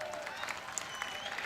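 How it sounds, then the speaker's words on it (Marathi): An audience at a wrestling match during a temple fair claps, a brief dense patter of many hands that sounds faint and somewhat distant. "कुस्ती झाले पाहिजे म्हणून टाळ्या वाजव सगळेजण."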